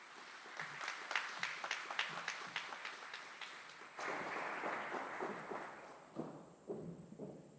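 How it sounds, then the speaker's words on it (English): An audience applauds at a joint military graduation ceremony at Fort Eustis, a sustained patter of clapping from a crowd that swells, then thins into scattered claps near the end, heard from a moderate distance. "Please give them a round of applause."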